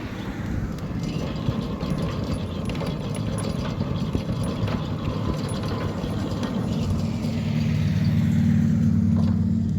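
A Centurion D5 Evo sliding gate motor at a home in Van Dyk Park, Boksburg, runs with a steady mechanical hum and rumble. It stays fairly even throughout and gets a little fuller and louder near the end. No one speaks.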